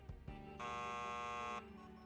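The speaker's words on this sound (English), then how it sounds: "Beeping still?" A faint electronic alarm in the video game Thimbleweed Park sounds as one flat, harsh buzz lasting about a second, with quieter tonal game sounds before and after.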